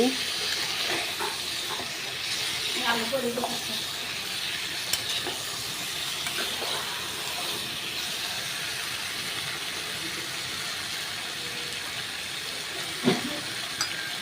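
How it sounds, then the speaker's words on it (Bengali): A little water splashes into a pan of frying vegetables for a Malabar spinach dish, giving a soft, steady hiss and sizzle that stays faint and even throughout. "সামান্য একটু জল দেবো, না হলে তলায় ধরে যাবে।"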